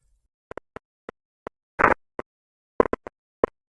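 Sparse, sharp clicks and pops from ultrasonic acoustic emissions of micron-scale dislocation avalanches shifted into audible range, about a dozen irregularly spaced, with one longer crackling burst, against total silence.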